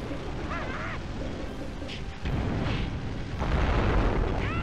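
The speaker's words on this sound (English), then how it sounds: "Oh my goodness, so many explosions when you do that." Booming bursts of explosions in The Legend of Spyro: A New Beginning video game, loud layered blasts swelling across the clip with rumbling low end, the densest barrage near the end.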